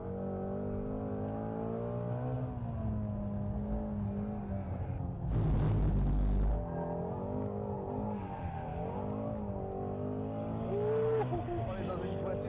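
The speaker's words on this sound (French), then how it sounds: "On est dans une voiture avec un vilebrequin plat, donc c'est une sonorité très particulière" Ford Mustang Shelby GT350R with a flat-plane crank V8, engine note rising and falling through revs with a loud, harsh burst in the middle, heard from inside the car under continuous talking.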